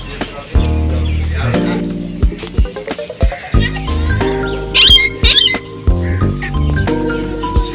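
Parrots at a zoo in Faisalabad give loud, harsh squawks in irregular bursts, some shrill and piercing, with sharp clicks and calls overlapping close by.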